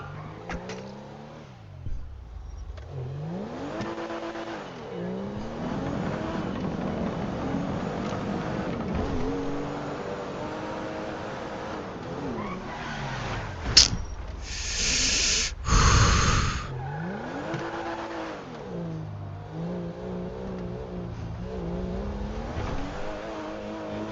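Car engine in GTA V revving and driving, a continuous rising and falling engine drone with gear-like swoops that runs throughout, broken by a brief sharp burst and louder whine midway, with faint breathing or snorting over it.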